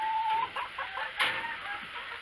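Backyard chickens clucking softly in a flock, a few short close clucks and murmurs with faint background sound, no talking.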